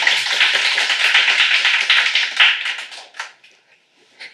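Audience applause for a professor at a university history-hall talk concert, a steady dense patter of clapping that thins out and fades to a few last scattered claps.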